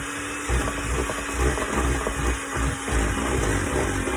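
An electric mixer blends self-raising flour into vanilla sponge cake batter, a steady close whirring drone with pulsing, uneven churning all the way through.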